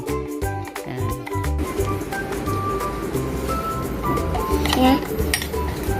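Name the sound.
spoon stirring lemonade soda in a glass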